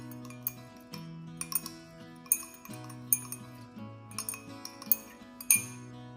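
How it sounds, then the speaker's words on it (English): A utensil stirring xanthan gum into a glycolic acid face serum in a glass container, with sharp, irregular clinks against the glass over a quiet stretch that carries soft background music. "I added xanthan gum soft and stirred it to disperse it."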